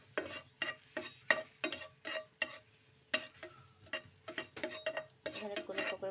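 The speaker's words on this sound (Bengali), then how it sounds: "তেল গরম হয়ে গিয়েছে, এখন দিয়ে দেবো শুকনো মরিচ। শুকনো মরিচ একটু নাড়াচাড়া করে নেবো।" Dry red chillies fry in hot oil as a utensil stirs them through, giving repeated scraping strokes in an irregular rhythm over a soft sizzle. The oil is meant for a sweet pumpkin stir-fry.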